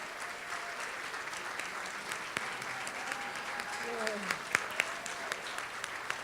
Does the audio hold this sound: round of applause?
yes